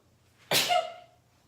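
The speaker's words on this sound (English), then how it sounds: "I've got a sneeze getting ready to come." A single sharp sneeze, close and fairly loud, bursts out once and tapers off quickly in an otherwise quiet room.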